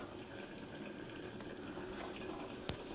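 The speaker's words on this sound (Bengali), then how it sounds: "সিমগুলি আর ডাটাগুলি একটু সিদ্ধ হইতে সময় লাগবো।" A pot of beans and stems simmers at a low boil, giving a soft continuous bubbling hiss with one small sharp tap near the end, quiet and steady.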